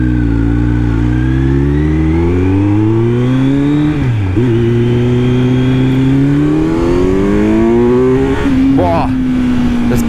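A Kawasaki Z900 motorcycle engine revs loudly and close while riding on a slightly dirty road, its pitch climbing through gears with a sharp dip and recovery as traction control intervenes.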